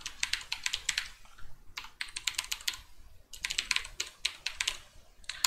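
Quiet, close keystrokes on a computer keyboard as a command is typed to start a Shadowsocks server, coming in quick irregular bursts separated by short pauses, with no speech.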